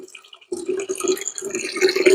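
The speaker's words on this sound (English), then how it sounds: "That's some nice lukewarm warm water to get the heavy stuff out." Lukewarm water running and splashing while rinsing out an Icetro slush machine, a steady close pour starting abruptly after a brief quiet and continuing without talk.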